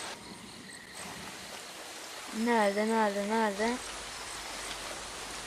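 Rain falls steadily in the Mini World video game, a constant soft hiss throughout, with a voice briefly speaking over it midway.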